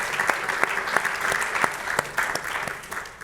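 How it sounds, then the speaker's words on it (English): An audience applauds two speakers at a talk on succeeding as a learning and development manager, with a moderately loud burst of mixed hand claps that holds steady and then tapers slightly. "join me in giving these two ladies another round of applause"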